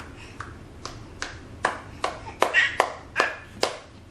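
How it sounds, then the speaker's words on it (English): A baby claps her hands against her stomach in about ten soft, separate pats at a steady, slightly quickening pace, close by, with faint background sounds. "It's more like clapping her stomach."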